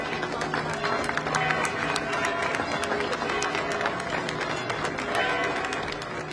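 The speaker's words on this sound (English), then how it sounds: "As the coffins arrived, there was a ripple of applause outside the Igreja Matriz de Gondomar." Outside the Igreja Matriz de Gondomar church, a crowd breaks into a ripple of scattered outdoor applause as coffins arrive, with steady clapping and murmuring voices throughout.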